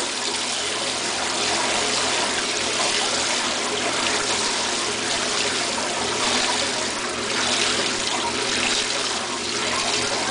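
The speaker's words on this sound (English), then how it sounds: "you can actually hear the water spilling out of the inner tub into the outer tub" Water from the overflow rinse of a 1958 Dominion automatic washing machine spills from the inner tub into the outer tub, a steady close splashing rush that runs continuously with slight surges and no talking.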